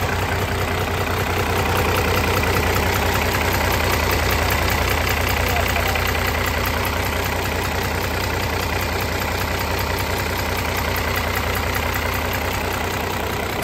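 A modified Fiat 640 tractor fitted with a 6-cylinder turbo engine of about 105 horsepower runs loud and close, a steady dense throbbing idle with a knocking diesel rhythm throughout and no voices.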